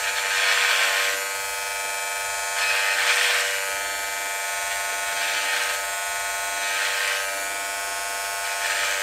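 An electric trimmer buzzes steadily while shaving down a beard, its constant motor whine swelling louder in four regular passes against the face and easing between them.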